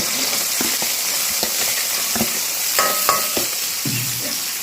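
Onion, green chili and garlic frying in hot oil, a loud, dense sizzle with scattered crackles and pops throughout.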